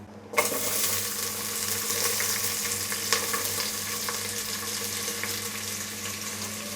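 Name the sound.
onion being sautéed in pan with whole spices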